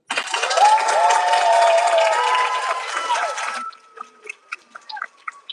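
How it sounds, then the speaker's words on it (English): Audience applause for Ms. Dorsey at a fifth grade closing ceremony, a dense burst of clapping with scattered cheers lasting about three seconds, then cutting off to a few lone claps and quiet murmurs. "Let's give Ms. Dorsey one more round of applause."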